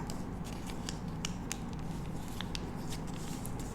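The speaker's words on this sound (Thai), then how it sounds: "พับเข้ามาหาเส้นตรงกลางตรงนี้ กดแล้วก็เอามือลูกรีดให้เรียบ" Paper is folded for a simple paper bow and pressed flat by hand, producing soft crinkles and light sharp creasing ticks scattered over a steady background hiss, close by and with no speech.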